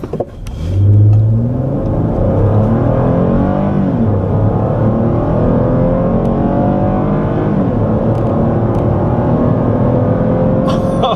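A 2013 Cadillac SRX with the sport package accelerates at full throttle from inside the cabin, its engine note climbing loudly through rising, shifting pitch sweeps with a strong low rumble throughout.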